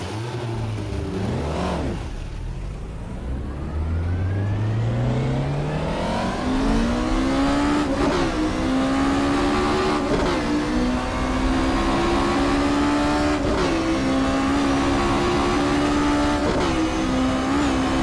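A 2-litre Ford Escort Mk1 races on the Isle of Man mountain course in the GTR2 video game, its engine revving up through the gears in rising pitch sweeps, loud and close, with no talking.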